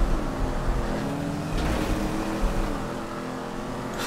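A Mustang's engine in GTA 5 Online roars and revs steadily, loud and close, with surges in pitch as the car accelerates, without any speech.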